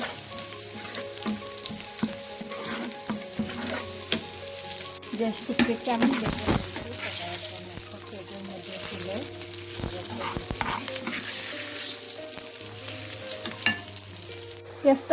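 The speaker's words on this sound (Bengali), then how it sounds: "হাফ টিস্পুন হলুদের পাউডার এবং হাফ টিস্পুন লাল মরিচের পাউডারটা দিয়ে দিচ্ছি এবং দিয়ে দিচ্ছি স্বাদ মতো লবণ দিয়ে আবারও গলিতে ভাজতে নিচ্ছি" Onions frying in a pan with turmeric, chili powder and salt, a steady close sizzle with scraping stirring strokes throughout, moderately quiet and alone.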